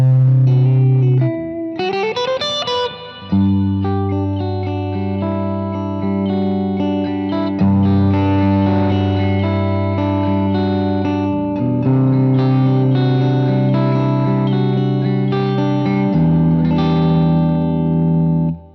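1958 Gibson Flying-V electric guitar in the in-between pickup position, playing sustained chords with a bright, sparkly tone and a wash of reverb and chorus, loud and continuous with no talking.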